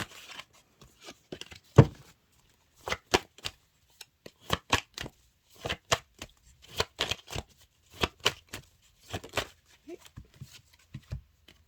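Tarot cards are shuffled by hand in repeated crisp riffling bursts, close and distinct, separated by short quiet gaps, with no voices.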